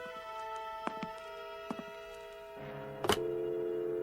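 An old-fashioned telephone is handled and dialed: several short clicks and knocks sound near and clear over a steady background hum, then a louder clatter as the handset is lifted, followed by a sustained tone. No one speaks.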